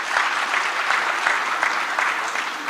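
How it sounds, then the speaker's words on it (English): Audience at a social impact summit applauds, a steady dense wash of many hands clapping that stays loud and even throughout, with a few sharper individual claps standing out. "Round of applause again, it was really good."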